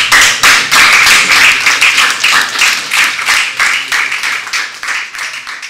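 A classroom audience of criminal justice students at Skyline College claps for Joe after his lecture, a loud, close round of applause that starts strong and gradually thins out over several seconds.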